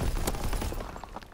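Gunfire in the World War II shooter Call of Duty: WWII, a dense loud burst of overlapping shots with sharp transients across the whole short span, no talk over it.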